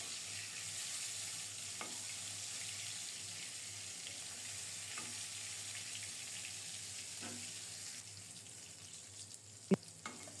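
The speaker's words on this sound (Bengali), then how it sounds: "মাছের এক পিঠ খুব সুন্দর মতো ভাজা হয়েছে, উল্টিয়ে দিলাম" Rohu fish pieces fry in hot oil, giving a steady, even sizzle that fills the whole stretch, with a few soft stirring clicks and one sharp knock near the end. Nobody speaks.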